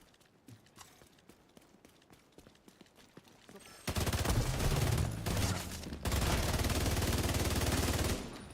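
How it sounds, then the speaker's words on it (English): In The Division 2, a gun with a boosted rate of fire lets out fast, dense bursts of automatic fire. The fire starts sparse, then becomes loud and continuous, with a short break before another long burst. "This gun sounds hilarious with the rate of fire buff."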